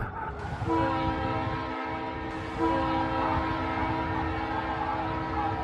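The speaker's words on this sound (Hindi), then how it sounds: "कि तभी हॉर्न 2 बार बजा" A train horn blasts twice, a long loud tonal blare, then a brief pause and a second blast, over rumbling railway noise.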